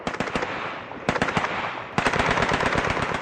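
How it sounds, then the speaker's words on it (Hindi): Heavy machine gun fire during Operation Blue Star, rapid bursts of shots in three distinct volleys, loud and close with short pauses between them. "उनके ऊपर सरोवर के दूसरी तरफ से जबरदस्त गोलीबारी होने लगी"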